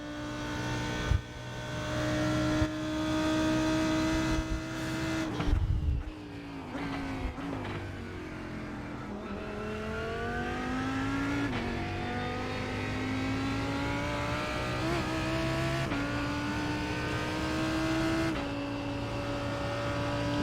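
GT race cars lapping Road Atlanta in a sim racing game: a steady, droning engine note rising and falling through gear shifts, with abrupt downshifts and brief changes, continuous and fairly loud throughout.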